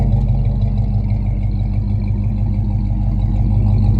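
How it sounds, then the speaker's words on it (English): A low, steady car exhaust drone at 2100 RPM rumbles continuously at close range, holding a constant pitch throughout. "does it have a drone at 2100 RPM, and you can hear all the exhaust out the back"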